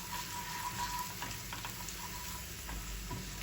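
Spices and a spoonful of salt sautéing in a hot pan for koshari, giving a steady, fairly quiet sizzle with a few small scraping clicks and no talk.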